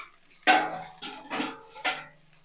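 Coriander seeds tipped into a pan of curry leaves make three sharp clattering bursts, each followed by a brief rattling scatter and soft frying; close and distinct, with no talk.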